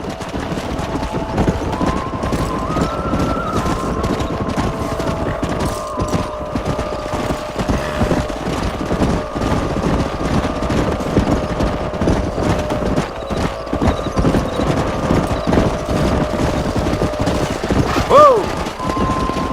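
Horses gallop in a steady, continuous clip-clop beat in the Red Dead Redemption video game, with gunfire bursts, a whinny and tonal game music running underneath throughout.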